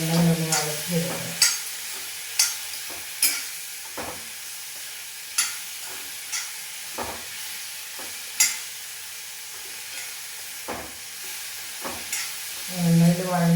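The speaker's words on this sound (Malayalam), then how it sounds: "ഇതെല്ലാം കൂടെ നമ്മളൊന്ന് ഒരു 5 മിനിറ്റ് എണ്ണയിലൊന്ന് വഴറ്റിയെടുക്കുക." Green chillies and curry leaves sautéing in oil for pineapple pulissery, a continuous sizzle with regular sharp spatula taps and scrapes on the pan, near and alone.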